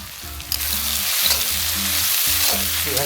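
Onions fry in hot oil with turmeric for a chilli chicken dish, giving a steady close sizzle with occasional stirring clinks and scrapes.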